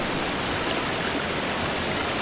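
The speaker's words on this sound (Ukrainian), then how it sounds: "Якась вода тече. Ви чуєте?" Steady water flowing in the Exit 8 horror game, a continuous dense rushing hiss like a stream or pouring water that stays even and fairly loud throughout, with no voices.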